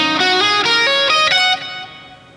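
Distorted electric guitar picking out a minor pentatonic scale, a quick run of sustained single notes climbing steadily upward before the last note rings out and fades, alone and loud.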